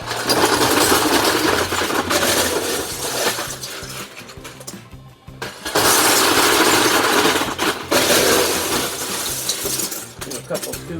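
Homemade LEGO brick sifter running loaded with loose bricks: a loud, continuous plastic rattle and clatter of tumbling pieces, pausing briefly midway before resuming at full intensity.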